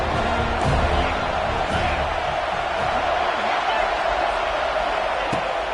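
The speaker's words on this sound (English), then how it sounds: "This crowd knows when to bring it." Football stadium crowd roaring steadily throughout, a dense, loud wash of voices with occasional surges and thuds, continuous from start to finish.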